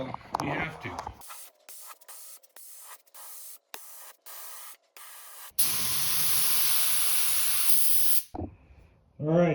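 Short bursts of Rust-Oleum spray can hissing in a quick series, then one long continuous spray of a coat of paint, with brief talking at the start and end.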